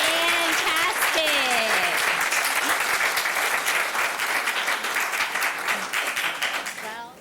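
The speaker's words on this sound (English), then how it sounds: "Let's give our county competitors a round of applause." An audience applauds contestants at a county 4-H public speaking contest, loud steady clapping filling the room and slowly tapering toward the end, with a voice briefly speaking over it early on.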